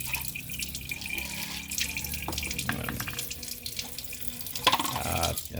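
Water runs steadily from a tap into a sink, a continuous splashing stream with a few clinks of something being moved nearby.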